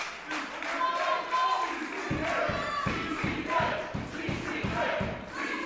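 A wrestling crowd at an IPW show roaring with cheers and battle cries, which break into steady rhythmic stomping or clapping, loud and close throughout.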